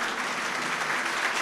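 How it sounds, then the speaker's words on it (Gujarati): An audience gives sustained applause at a recital of Sanskrit verse, a dense, even wash of many hands clapping together, loud and continuous throughout without speech. "તહે દિલથી આ તાળીઓનો નાદ તારા કાન સુધી જે પહોંચી રહ્યો છે"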